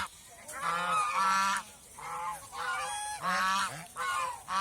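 Domestic geese raised on a Bangladeshi farm honk in repeated loud bursts, several overlapping calls rising and falling in a ragged rhythm with short pauses between.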